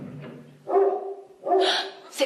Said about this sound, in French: C'est le voisin qui descend promener son chien